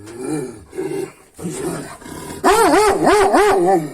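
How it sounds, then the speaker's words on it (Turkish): A female dog growls and bares her teeth at another dog: low rumbling growls in short bursts, then a louder, wavering, snarling whine close by, with no talk. "Diş göstererek o köpeği pes ettirmeye çalışıyor"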